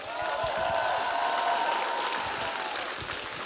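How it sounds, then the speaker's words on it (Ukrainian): A studio audience at a televised singing contest final applauds in a steady wash of clapping, with a sustained tone of music or voices running underneath. "Дякую вам за оплески."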